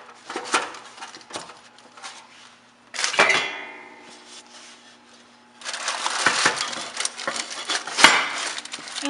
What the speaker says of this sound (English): I'm gonna cover it with a lid